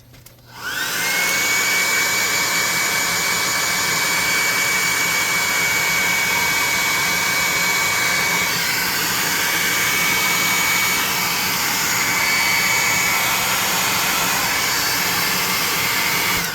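A hot air gun blasts a constant, loud, rushing whoosh with a high whine, starting abruptly and holding steady.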